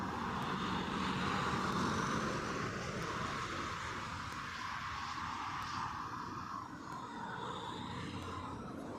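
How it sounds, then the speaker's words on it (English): A United Airlines Boeing 767-300 arriving at Heathrow after a flight from New York, heard as a steady, fairly distant broadband jet roar that holds throughout and eases slightly toward the end, with no voices. "And then in the background, United Airlines Flight 110, inbound from New York, on a 767-300"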